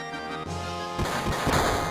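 A cannon attack fires in the Final Fantasy VII game, a sustained loud blast of crashing, crackling impacts that swells after a tonal buildup and keeps rumbling to the end.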